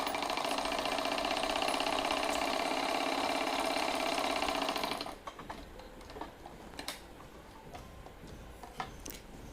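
A sewing machine runs steadily for about five seconds, stitching a fold in kurti fabric for pin tucks, then stops, leaving faint handling clicks and rustles.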